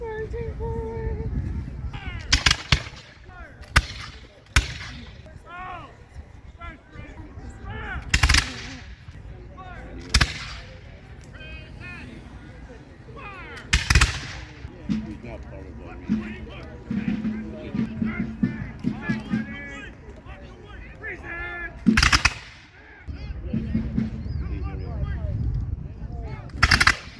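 Sharp booming cannon blasts from a Revolutionary War battle video game go off one after another at irregular intervals, loud against a busy background of game noise and distant crowd-like rumble.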